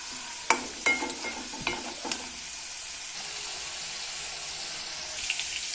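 Cashews roasting in oil in a home kitchen pan, a constant bright sizzle with several sharp metallic scrapes and taps from stirring early on, then steady frying alone.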